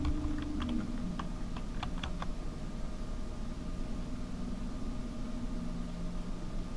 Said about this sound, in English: We'll tab over and type the password for admin.